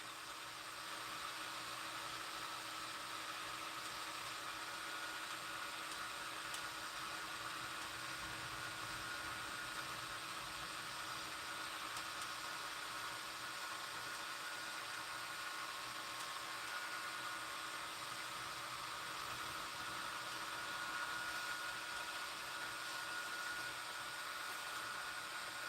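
Steady sanding of a pen blank with fine-grit sandpaper, likely on a lathe, makes a continuous broadband hiss with an even hum that holds at a constant level throughout, with no talking.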